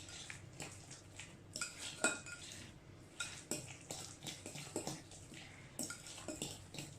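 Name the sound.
mixing banana muffin batter with grated apple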